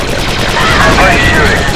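Blaster gunfire in the Star Wars Republic Commando video game, a dense continuous burst of loud rapid shots with electronic whine, close and filling the whole moment.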